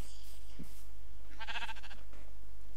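A Minecraft sheep gives a clear, close bleat midway through, a short wavering cry set over a steady low background hum.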